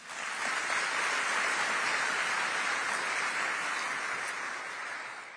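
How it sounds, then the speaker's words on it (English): Sustained, even applause from a large audience at the Qatar Economic Forum 2025 opening session fills a big hall, a steady dense wash that holds throughout and tapers slightly at the end. "So let's thank them all with a big round of applause."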